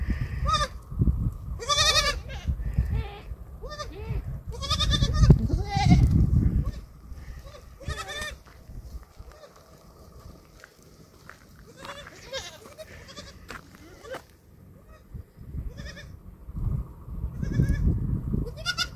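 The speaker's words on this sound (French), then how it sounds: "brebis." A flock of ewes bleats repeatedly, several overlapping wavering calls coming in irregular bursts, some close and loud and others farther off, over soft background noise.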